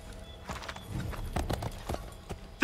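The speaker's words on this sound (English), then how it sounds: "Fucking horse." In the Assassin's Creed 3 video game, a horse's hooves clip-clop in quick, uneven steps close by, and a short whinny is mixed in. The sound is fairly quiet, with no talking.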